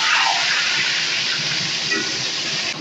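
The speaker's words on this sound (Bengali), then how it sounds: "এখন আমি ওই তেলের মধ্যেই আলুগুলোকে ভেজে নেব" Long-cut potato slices frying in hot oil in a pan, a loud, steady, close sizzling hiss that holds for the whole stretch and eases slightly at the end.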